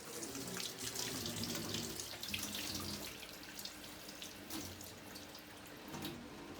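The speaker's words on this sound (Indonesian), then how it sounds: "alangkah baiknya kita mencuci tangan terlebih dahulu." Hands are washed under a running tap at a sink, a steady close splashing rush of water that continues throughout with no talk.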